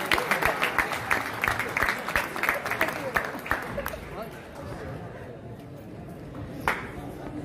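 An audience at an evening event applauds with dense, sustained clapping and chatter that gradually thins out, while a voice speaks over the crowd.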